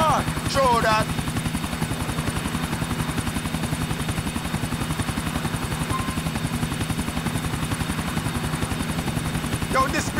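A helicopter's rotor thumps in a fast, steady rhythm throughout in Grand Theft Auto IV, loud and close, with a few short voices and chirps breaking in near the start and end.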